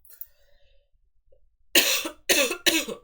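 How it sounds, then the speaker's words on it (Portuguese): Three harsh coughs from one person come close together near the end after a quiet stretch, loud and close. "Tosse, garganta, vai tudo pro espaço."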